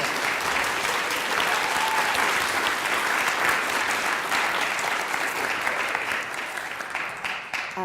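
Sustained round of applause from an audience in a school event hall, thick and even throughout before thinning slightly near the end.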